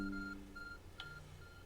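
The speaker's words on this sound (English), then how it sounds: "There's a glowing beeping object over there." A glowing object in the video game Pokemon Legends Arceus gives off soft, evenly spaced electronic beeps, faint and repeating over a low background hum, with one brief brighter chirp in the middle.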